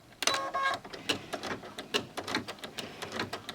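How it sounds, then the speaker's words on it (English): An embroidery machine sews a satin stitch border around the edge of an in-the-hoop credit card wallet, giving a rapid, steady mechanical stitching rhythm, close and clear. "I'm going to insert this into the machine for the last stitch out, which is going to be the satin stitch that goes all the way around the outside edge"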